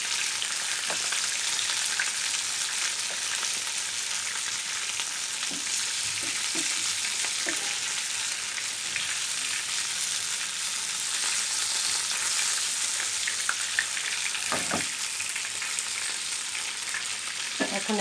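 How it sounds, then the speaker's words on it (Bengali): Hilsa fish pieces frying in hot oil in a pan, a steady loud sizzle throughout with occasional scraping and clinks as the fish is turned over, no voices. "মাছগুলো হয়ে গেছে, এখন একবার উল্টিয়ে দিয়ে উঠিয়ে নিব।"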